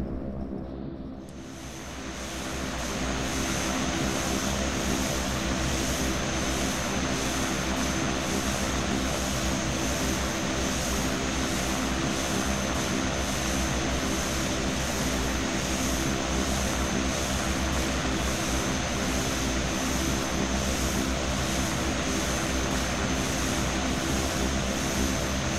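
Simulated T-6A Texan II turboprop engine in a flight simulator, rising quickly from a lower idle into a loud, steady propeller drone with a buzzing whine that holds unbroken for the whole stretch, alone without talk.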